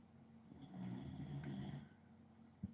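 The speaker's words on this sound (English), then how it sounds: "my dog's snoring so loud" Faint, low snoring from a dog with a slow, drawn-out breath in a quiet room, followed by a brief soft thump.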